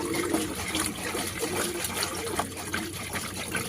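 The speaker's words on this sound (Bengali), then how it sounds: "এবার আমি এটাকে জলের মধ্যে দিয়ে দিচ্ছি, জলের মধ্যে দিয়ে ভালো করে তুলে নেব।" Lumped medicine powder dropped into water and stirred until it dissolves, giving continuous close sloshing and trickling water with small splashes, no talking.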